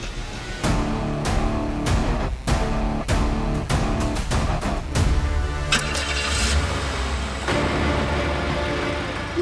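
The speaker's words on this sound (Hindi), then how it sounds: "गाड़ी की आवाज" A car engine revs and roars loud and close, with sharp bursts of sound mixed in and a rumble that keeps going underneath.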